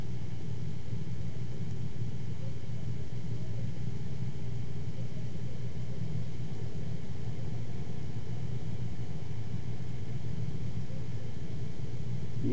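A buffing polisher runs steadily after being switched on, its motor giving a constant low rumbling hum with broadband whir, pressed hard against the surface at about two settings above its slowest speed, close and loud throughout.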